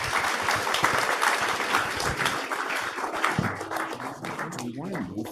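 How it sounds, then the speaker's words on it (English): An audience at a startup demo night claps together in a sustained burst of applause, and partway through people begin talking beneath the clapping as it continues to the end. "Let's have a round of applause"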